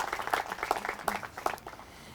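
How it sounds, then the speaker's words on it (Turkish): Audience applause for company representatives at a corporate event in Turkey, a steady patter of many hands clapping with close, bright claps, fading slightly toward the end. "Kendilerine bir alkışla aralarımızda temsilcileri var."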